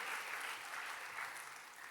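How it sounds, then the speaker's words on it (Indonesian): Church congregation applauding during a sermon, a dense steady wash of clapping filling the whole stretch, fairly even in loudness, with no one speaking over it. "kalau mau tepuk tangannya boleh lebih dahsyat lagi buat Yesus Tuhan kita"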